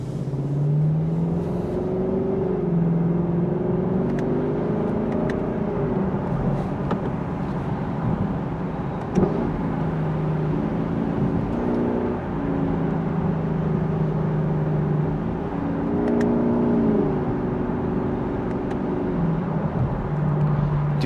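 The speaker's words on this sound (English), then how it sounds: "let you listen to this naturally aspirated 5-liter V8" A 2025 Lexus LC 500 convertible with a naturally aspirated 5-liter V8 drives under load, its engine droning steadily with rising and falling pitch as revs shift through the gears, heard from inside the cabin.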